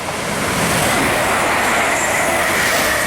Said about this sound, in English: Next train to go through is a London Midland service bound for I don't know where.